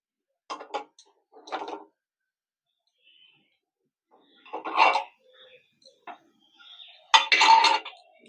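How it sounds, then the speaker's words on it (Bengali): Fried fritters being lifted onto a plate, a few sparse clinks and scrapes of utensils against the dish in an otherwise quiet setting, ending with a louder clatter. "ভেজে থালার মধ্যে তুলে নিচ্ছি"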